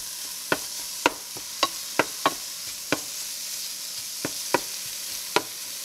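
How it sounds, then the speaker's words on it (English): Bacon cut into lardons renders in a hot pan with a soft background sizzle, punctuated by about ten sharp clicks and taps of a utensil stirring against the pan, without speech. "about 4 strips of bacon into the hot pan. I'm doing this lardon style"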